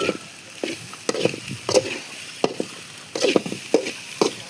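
Fried rice mix being stir-fried in a pan, with intermittent scraping and stirring strokes over a light sizzle, close and fairly clear, no talk.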